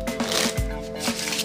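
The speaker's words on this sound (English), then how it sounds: "Okay, first I'm gonna shuffle the cards" A deck of playing cards being shuffled up close for a card trick, giving a quick riffling flutter with soft snaps, alone with no talk.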